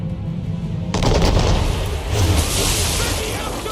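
A volley of musket gunfire erupts in Assassin's Creed III after shouted firing orders, a sudden loud burst of overlapping cracks and booms that rolls on with a second surge and slowly fades, with voices underneath.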